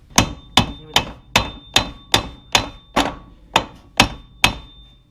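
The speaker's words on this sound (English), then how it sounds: "So get as flush as you can there with a hammer." A hammer knocks a car's strut assembly flush, eleven evenly spaced, sharp metallic blows at a steady rhythm, each ringing briefly before the next, close and loud with no talking.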